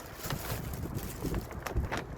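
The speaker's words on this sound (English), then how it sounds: "it's a bit windy" Gusty outdoor wind rumbles against the microphone in uneven low bursts, rising and falling over a couple of seconds with no talking.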